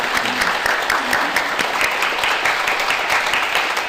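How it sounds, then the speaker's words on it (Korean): A church congregation applauds at a Sunday service, a steady, dense burst of many hands clapping that fills the room evenly throughout, close and loud with no speech over it. "축복의 박수, 또 우리 마음을 담은 우리 박수로 우리 유스들을 다 격려했으면 좋겠습니다"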